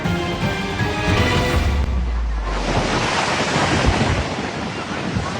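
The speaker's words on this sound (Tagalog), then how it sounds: "Malalaking alon ang humampas sa mga tauhan ng Coast Guard sa Apari, Cagayan nitong Biyernes Santo." Large ocean waves crash and surge at Aparri, Cagayan, loud and close with a heavy rumbling wash and gusts of wind buffeting the microphone throughout.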